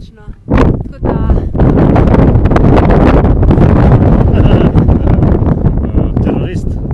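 Strong wind buffets the microphone in a loud, continuous roar, rising and falling in gusts, on a fog-covered mountain ridge in the Triglav area of the Julian Alps; a voice briefly speaks over it.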